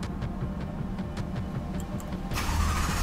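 A luxury car in Dubai starting up: a quiet idle with faint clicks gives way to the engine catching and rising to a louder, fuller roar at the end.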